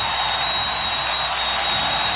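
A basketball arena crowd applauds the San Antonio Spurs during a 2005 NBA playoff game against the Phoenix Suns, a constant broad wash of clapping and crowd noise with a faint steady tone.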